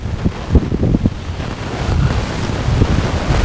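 Strong wind buffets the microphone outdoors near water on a rainy day, a loud continuous rumbling roar with gusty surges and no talk over it.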